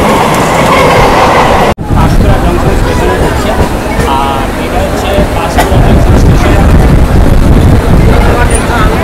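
A Howrah to Digha local train rumbles loudly and steadily up close, its wheels rattling in a continuous clatter, with one sudden sharp break near the start and faint crowd voices blending beneath the noise.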